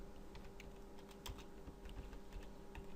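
Quiet typing on a computer keyboard, irregular light key clicks tapping along at a moderate pace with a faint steady hum behind, no voices.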